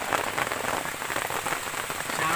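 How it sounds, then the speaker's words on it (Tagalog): Rain pours down at a campsite on a herping and camping trip, a loud, close, continuous patter of drops hitting surfaces, with no voices. "Inabot kami ng ulan."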